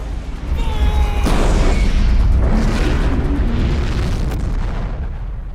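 Rocket launcher explosions strike a building in a visual-effects shot, with loud sustained booms and crashing blasts that roll on for several seconds with no talking.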